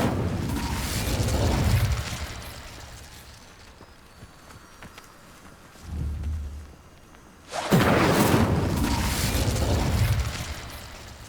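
Incendio fire spell cast in Hogwarts Legacy, loud whooshing bursts of flame with a booming rush, one swelling early, a quieter thump midway, then a sudden strong eruption that roars on for several seconds.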